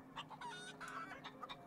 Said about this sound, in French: Oh, une poule! On peut parler à la poule, regardez!